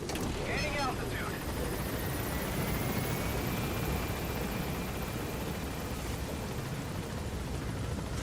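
Helicopter climbing in Metal Gear Solid V: a steady, fairly quiet rotor and turbine drone fills the scene, with a brief whine early on and a voice speaking faintly over it.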